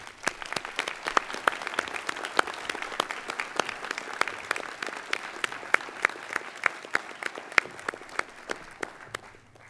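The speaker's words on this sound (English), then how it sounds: "Ladies and gentlemen, please honour them with your applause." Audience applause at a CQUniversity graduation ceremony in Mackay: steady, moderately quiet clapping with individual hand claps standing out, sustained for about ten seconds in a large hall.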